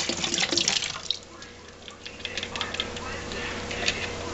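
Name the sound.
water from tap rinsing a fermenter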